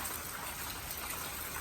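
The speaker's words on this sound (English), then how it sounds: "it's raining like all right here in front of the car" Steady, dense rain hissing on surfaces close by, in front of a car, a continuous wash of drops with no other sounds.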